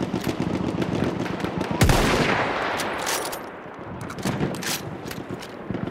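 Rapid machine gun fire in a tank battle video game: dense bursts of loud, close shots and impacts, with a heavy blast partway through, and no clear voices.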